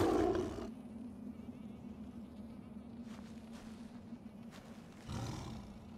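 A lion in Far Cry Primal gives a rough roar at the start and another rumbling growl near the end, over a low continuous ambient drone and with no talk.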